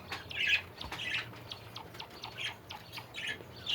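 Chinese quails call from close by in a pen, giving short, bright squawks and chirps several times over a few seconds against a low background hum.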